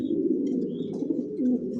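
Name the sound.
racing pigeon cooing while sitting on eggs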